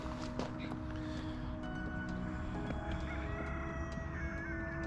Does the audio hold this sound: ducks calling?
yes